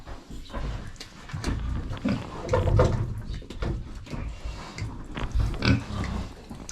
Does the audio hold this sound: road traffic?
no